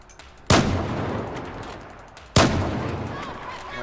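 Two loud, sharp gunshots in Battlefield 4, roughly two seconds apart, each followed by a long, booming decay with faint game ambience in between and no speech.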